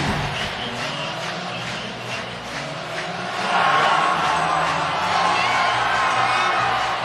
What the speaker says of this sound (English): they're back fully engaged in this raucous venue, Memorial Stadium in Clemson, South Carolina